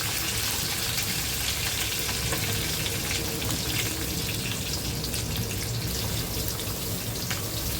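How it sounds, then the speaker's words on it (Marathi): Ginger and garlic fry in a pan with curry leaves already added, giving a loud, steady, close sizzle that runs unbroken throughout with no voices. "आपण आलं आणि लसूण टाकूया."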